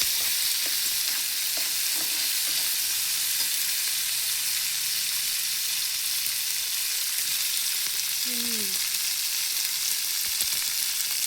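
Leftover food fries gently in a little oil, a soft, even sizzle held close and steady for about eleven seconds, with a few faint clinks and a brief squeak near the end.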